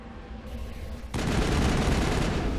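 Mako vehicle cannon fire taking down the last turret on Luna in Mass Effect 1: a loud burst of heavy gunfire and blast noise that starts abruptly partway in and continues densely to the end.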